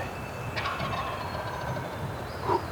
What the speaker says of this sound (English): That's a thick gobble, boy.